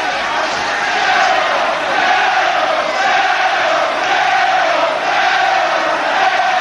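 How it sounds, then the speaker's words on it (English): A boxing crowd at a 1983 fight at Granada Studios in Manchester roars in a sustained, swelling wash of cheering and shouting that fills the hall. "Excites the crowd indeed."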